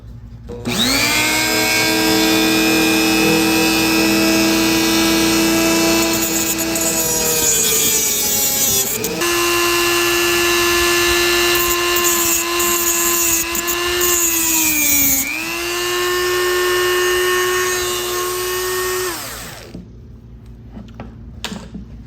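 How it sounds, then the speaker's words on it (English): A Dremel rotary tool cuts down the backs of nails during a repair of WWII RAF Mark IV goggles, a loud, sustained high-pitched whine whose pitch shifts under load, running almost the whole time with no talk. "So I'm gonna cut these nails down, the back sides of them, with the Dremel."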